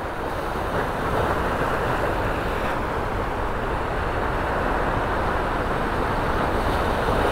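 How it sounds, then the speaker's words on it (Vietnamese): Ocean waves at Phan Ri Cua fishing harbour, heard as a continuous loud wash of surf mixed with wind noise, steady and unbroken with no talking. "sóng đó"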